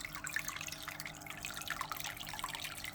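Water splashes and trickles from an Oase Biostyle aquarium filter as its flow is adjusted, a soft, steady patter of drips and running water at low volume with no talking.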